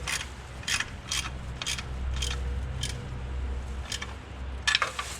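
Bracket bolts on a Ford 289 engine being snugged with a ratchet make a series of brief, close metallic clicks and ratcheting bursts, spaced irregularly with quiet gaps between them.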